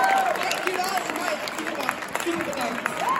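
Crowd applause with cheering voices mixed in at a rock music contest award ceremony, steady and fairly loud throughout, with some people shouting over the clapping.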